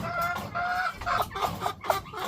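Breeding hens, including brooding mother hens sitting on eggs, cluck in a series of short rising calls close by, alone with no talk.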